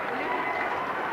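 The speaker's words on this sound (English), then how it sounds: "another warm round of applause for Rafa" Tennis crowd at the Stella Artois tournament applauds Rafael Nadal after a hard-fought match, a brief, dense and steady wash of clapping and cheering.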